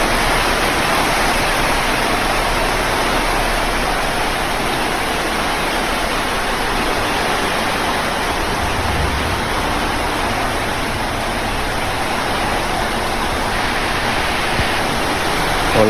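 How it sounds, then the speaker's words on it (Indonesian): Heavy rain pours down steadily at a campsite during a night thunderstorm, a dense, loud, unbroken hiss of drops on surfaces with no pauses. "Hujannya deras banget."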